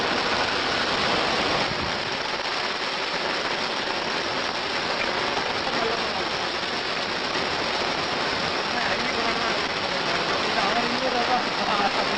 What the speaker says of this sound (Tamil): தமிழகத்தின் பல்வேறு பகுதிகளிலும் பரவலாக மழை பெய்து வருகிறது